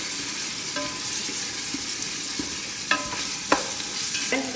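Onion and meat are stirred in a hot pan, with steady sizzling, scraping spoon strokes and a few sharper clinks against the metal. No one speaks.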